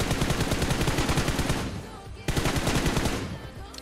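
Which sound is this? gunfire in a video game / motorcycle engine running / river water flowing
gunfire in a video game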